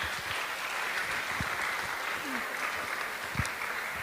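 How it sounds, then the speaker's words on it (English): Audience applause for the cooks at a Sunday feast, a steady patter of clapping that carries on evenly throughout at moderate level, with faint voices beneath. "a round of applause for the cooks today"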